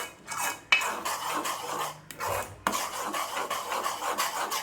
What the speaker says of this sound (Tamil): நல்லா அந்த மிளகாத்தூள் எல்லாமே இந்த மேங்கோ பாரோட மிக்ஸ் ஆகிற அளவுக்கு நல்லா நம்ம கிண்டிக்கலாம்